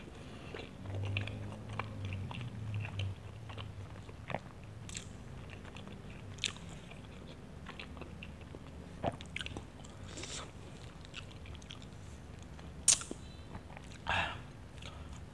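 Close, crunchy biting and steady chewing of sausage-filled takoyaki, with scattered wet bites and a few sharper crunches over a quiet room.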